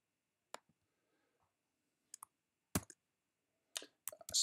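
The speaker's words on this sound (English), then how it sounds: "everything I'm doing, well, you can't see it, is using keystrokes" Keystrokes on a computer keyboard, sparse, crisp clicks heard close in a quiet room, a single tap, then a pair, then a quicker cluster of presses toward the end.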